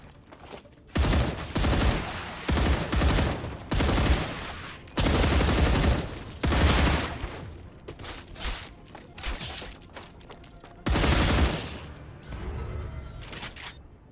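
Bursts of rapid automatic gunfire from the StarRupture video game come in loud volleys, several separate bursts with short gaps between them and quieter mechanical clatter in between.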